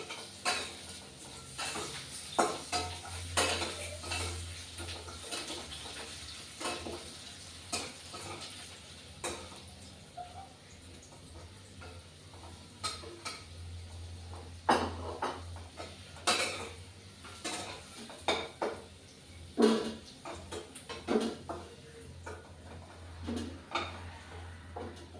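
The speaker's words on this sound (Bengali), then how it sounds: "এভাবে আলুটা লাল করে ভেজে নেবে।" Potatoes fry with turmeric in a pan and are stirred with a metal spoon, giving irregular scraping clinks and taps over a low, steady sizzle and hum.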